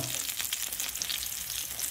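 Continuous close sizzling and crackling of button mushrooms frying in clarified butter in a hot pan, with no talking.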